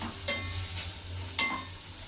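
Okra sizzles and fries in a pan for a fish curry, a soft continuous hiss with a couple of brief stirring scrapes, close and fairly quiet.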